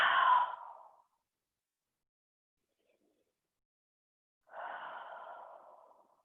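Deep breaths during a yoga exercise: a long audible exhale, a silent pause of several seconds, then another slow breath, soft and close with no talk.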